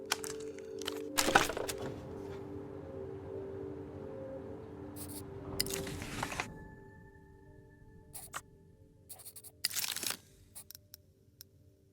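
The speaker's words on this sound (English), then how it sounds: "A click, and the line goes dead." From the video game Zero Parades, a phone line gives a sharp click and then goes dead. Scattered cracks and clicks stand out against a quiet hum that falls away, and no one speaks.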